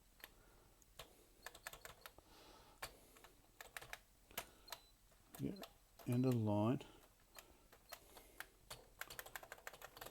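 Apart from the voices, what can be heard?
typing on Tesla PMD 85 computer keyboard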